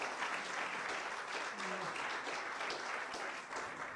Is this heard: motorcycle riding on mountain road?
no